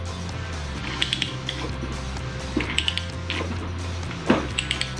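A ratchet pipe threader being turned by hand on a steel pipe held in an old vise gives a series of close mechanical clicks in short bursts, with the pawl catching and creaking as the die bites.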